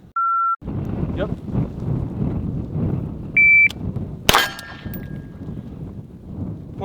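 Two short, sharp electronic shot-timer beeps sound at an outdoor shooting range amid wind noise, followed by a loud rifle shot from an AR-15 with a ringing clang.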